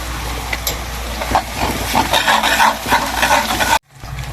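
Mixed seafood sautés with garlic and tomato paste in a pan, a loud, close, steady sizzle with spoon scraping and stirring, ending abruptly in near silence.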